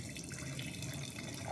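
Box wine streams from the spout into a glass with a soft, continuous liquid trickle, quiet and close, with no talking over it.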